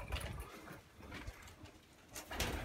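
Pigeons coo in a loft, soft throaty calls rising and falling over a steady rustling background, with a few louder bursts near the end.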